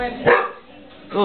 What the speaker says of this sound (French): C'est un chien, ça.